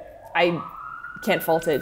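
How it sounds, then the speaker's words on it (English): An emergency vehicle siren passes outside as a steady, faint wailing tone, heard beneath a person talking close by. "Sorry about that siren."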